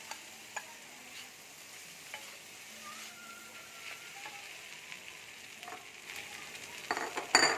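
Potatoes tossed into spice paste already fried with salt and sugar, for pocket papor curry: a faint, soft sizzle with scattered light clinks and stirs, growing busier and louder in the last second, no voices.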